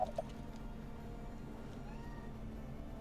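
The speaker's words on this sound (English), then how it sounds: "I was just talking to my cat." A house cat gives two short meows right at the start, then falls quiet over a low, steady background hum.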